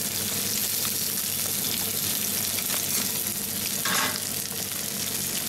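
Halved cherry tomatoes drop into a pan where sea bream fillet is frying in oil, a continuous bright sizzle with a brief louder hiss as they land.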